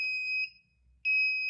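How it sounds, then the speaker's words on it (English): A portable tumbler press timer beeps twice, each a steady, piercing electronic tone lasting under half a second, separated by a brief silence. "now we're stuck in the realm of beeping"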